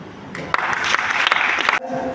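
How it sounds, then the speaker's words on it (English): A short burst of applause from a crowd at a farewell party for a US consul, with clapping swelling quickly and then cutting off abruptly. "Round of applause, please."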